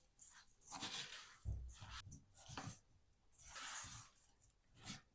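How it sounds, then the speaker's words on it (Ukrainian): Cherries being stirred with sugar and starch in a bowl: soft, wet squishing and scraping strokes that repeat irregularly, fairly faint and close, with no voices. "Додаю крохмаль і перемішую"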